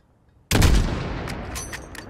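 A single loud, close rifle shot fired at a target 600 meters away in the Modern Warfare video game campaign, a sharp report after brief silence followed by a long rolling echo with faint high ringing.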